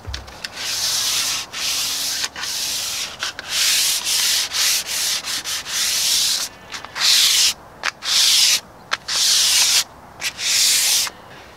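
Light hand sanding on the painted hatch of a narrowboat, with brisk back-and-forth rubbing strokes in repeated bursts and short pauses, close and fairly loud with no talking.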